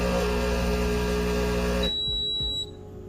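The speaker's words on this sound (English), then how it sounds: "You hear that beep and descale blinking." Breville Barista Pro espresso machine signalling descale: a steady electronic tone over a loud hum cuts off abruptly, followed by a brief high beep and quieter mechanical clicks.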